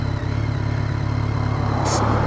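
A BMW K1300S motorcycle runs along on a sunny ride from Gatwick, with a close, steady engine thrum and rhythmic pulsing under wind noise, while a rider talks briefly.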